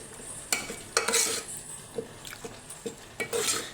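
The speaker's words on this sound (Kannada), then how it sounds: "ಇದನ್ನು ಸೌಟಲ್ಲಿನೇ ಚೆನ್ನಾಗಿ ಸ್ಮ್ಯಾಶ್ ಮಾಡ್ಕೊಳ್ಳಿ. ಟೊಮ್ಯಾಟೊ ಎಲ್ಲ ಸಾಫ್ಟಾಗಿ ಬೆಂದಿದೆ." A ladle mashes soft-cooked tomatoes and toor dal in a pot for drumstick sambar, giving several separate clacks and scrapes of metal against the pot over a few seconds, close and moderately loud.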